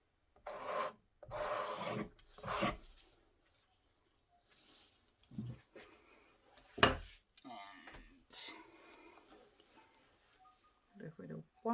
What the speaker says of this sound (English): What I'm going to do is I'm going to scrape it off.